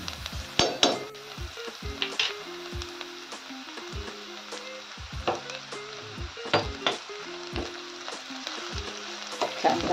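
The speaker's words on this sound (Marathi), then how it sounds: "छान लाल होईस्तोवर परतून घेऊया" Chopped onion and crushed garlic cloves sizzle while sautéing in a pan for a Marathi shengole dish, with repeated spatula scrapes and clanks against the metal at an irregular stirring rhythm, close up with no talking.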